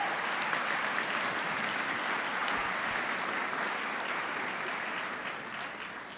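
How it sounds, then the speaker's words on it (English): Audience applause fills a school assembly hall, a dense, steady clapping from many hands that holds evenly and then tapers slightly toward the end, with no one speaking over it. "Can we please give them all a round of applause?"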